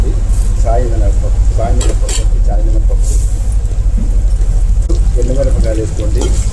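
Chana dal sizzles steadily as it fries in hot oil for pulihora, a constant close hiss that runs through the whole stretch while someone talks over it.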